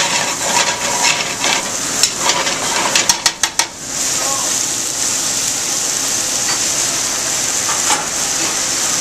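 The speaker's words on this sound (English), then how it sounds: "once the vegetables are in, we're going to cook these until they're just tender" Vegetables sautéing in a pan for Cajun shrimp and grits, a steady loud sizzle with a rapid burst of metallic clinks from stirring utensils partway through.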